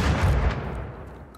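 Gunfire in Rust Console Edition rumbles heavily from the start, a loud, booming blast that fades gradually over about a second.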